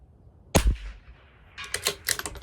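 A CZ 457 LRP rifle fires a single sharp shot on a 200-yard range, followed by a second burst of quick clattering cracks about a second later, heard alone without talk.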